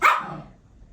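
A single sharp bark from a jealous pet dog indoors, close and loud, fading quickly into a short quiet tail.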